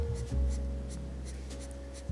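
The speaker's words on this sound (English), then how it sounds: "I used this pencil to create like directional lines in the shading" Pencil shading on paper in directional strokes, a soft close scratchy rasp in a few rhythmic pulses, with a faint background tone underneath.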